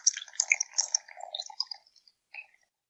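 Tea poured from a pot trickles and drips in a quiet setting, a bright close, burbling stream of liquid lasting about two seconds, then a short final dribble after a pause.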